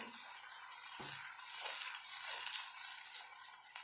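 Tomato paste sizzling and frying in a pan with onion and garlic-ginger paste for a restaurant-style chicken gravy, a steady bright hiss throughout with occasional soft stirring scrapes, close and continuous with no talk.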